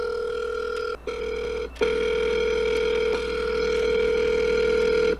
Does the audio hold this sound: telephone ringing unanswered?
yes